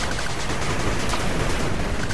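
A machine gun turret in the 8-Bit Armies strategy game firing continuously, a loud, dense rattle of rapid shots packed together over a short stretch with no talking.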